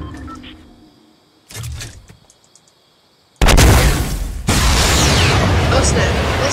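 A loud explosive burst from rocket riding in Fortnite strikes suddenly, then a dense roaring rush carries on steadily, following quieter scattered game sounds and a few thumps.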